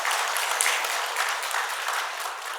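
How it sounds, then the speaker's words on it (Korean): Church congregation applauding in celebration and encouragement during a Korean Sunday service, a steady dense clapping that fills the whole moment without pause. "축하와 격려의 박수 한 드리도록 하겠습니다"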